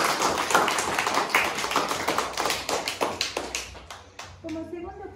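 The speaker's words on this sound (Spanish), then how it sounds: "solo les pido un aplauso para Tania." A school gathering applauds a visitor with a dense run of sharp, close claps that thins and stops near the end, followed by a voice starting to speak.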